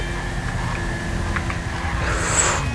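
A car braking hard in Grand Theft Auto V, a steady engine rumble with a rising tire squeal toward the end, close and fairly loud.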